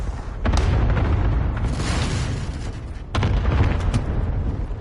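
Cluster strike explosions in the video game Call of Duty Cold War, with a dense, rolling barrage of loud booms and blasts that continues throughout and swells again near the end.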